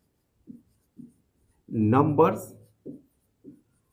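A pen writes numbers by hand on paper for a math exercise, making several short, separate scratching strokes spaced about half a second apart, with a brief burst of voice in the middle.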